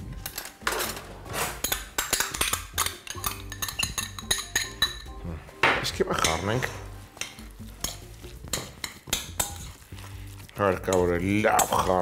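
A spoon working through a chicken and zucchini filling for cannelloni in a bowl, giving repeated scraping, clinking strokes in an irregular rhythm. A voice speaks at times in the background.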